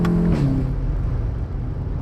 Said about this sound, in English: that exhaust is just incredible